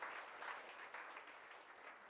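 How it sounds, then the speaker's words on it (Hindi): An audience at a Jain religious gathering claps together, a dense, even patter of many hands sustained throughout and heard fairly faintly, with no voices on top. "एक बार ताली बजा दो 5 तीर्थंकर भगवान की प्रतिमा के लिए।"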